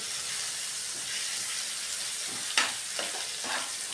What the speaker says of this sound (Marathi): उरलेला मसाला पण या तेलामध्ये आपण व्यवस्थित परतून घेऊ